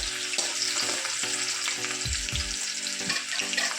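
Chopped onion fries in a pan for vegetable fried rice, a continuous sizzle broken by rhythmic clanking stir strokes of a spoon against the pan, fairly quiet and close.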